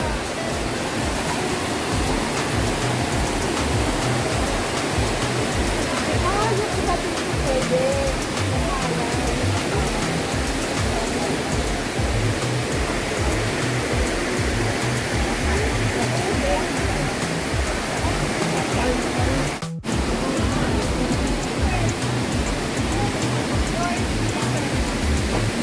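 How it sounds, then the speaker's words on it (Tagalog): A waterfall at the Villa Escudero plantation resort in Tiaong, Quezon pours in a loud, steady rush of white water, close and continuous throughout, with only a brief break near the end. "Waterfall."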